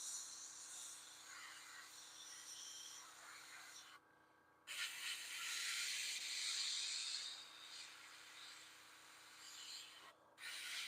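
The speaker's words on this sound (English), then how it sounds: "Look at me delicately airbrushing." An airbrush sprays paint in close, hissing bursts, a soft airy rush that cuts off briefly twice before resuming, heard on its own without talk.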